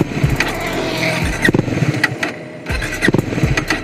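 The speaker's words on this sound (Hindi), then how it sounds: "तो एक बार फिर भी ट्राई करके देख लेते हैं बाइक स्टार्ट होती है कि नहीं।" A Bajaj Dominar 400 BS6 motorcycle, low on petrol, cranks repeatedly in short bursts of starter whirr and brief engine catches, close and loud, with pauses between attempts.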